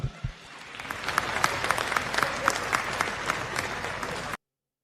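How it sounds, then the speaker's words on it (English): A room of people claps for several seconds, dense steady applause at moderate loudness that cuts off abruptly at the end. "Yes, I think that deserves a clap."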